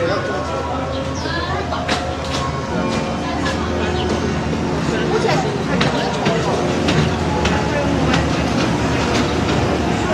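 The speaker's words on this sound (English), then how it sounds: "we're just waiting for the train to come." Train pulling into Hong Kong Disneyland station, a steady loud rumble with rail clatter and brake squeals throughout, heard close with crowd talk mixed in.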